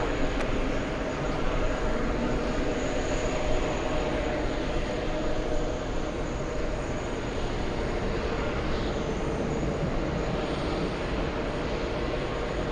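Boeing 757 jet airliner at JFK airport, a steady broad roar of engines held at constant loudness throughout, with no voices.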